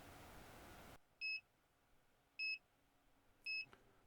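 An ESP32-based Tasmota thermometer beeps three times, short electronic tones spaced about a second apart in an otherwise quiet room.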